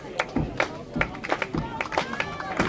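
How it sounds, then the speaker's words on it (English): A baseball crowd at Veterans Field claps in scattered, uneven bursts, a mix of nearby and distant hands with a faint crowd murmur underneath. "Crowd continues to get into it."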